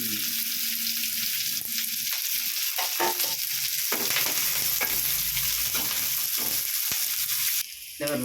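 Ginger, garlic, green chilli and curry leaves sautéing in oil, a close continuous sizzle with scraping strokes of a ladle stirring the pan, a voice murmuring faintly underneath.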